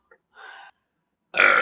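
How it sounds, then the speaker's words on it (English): Two loud burps after drinking soda: a short belch first, then a longer, louder, rougher one after a pause, both close and with no talking. "I felt better though after I burped all that out."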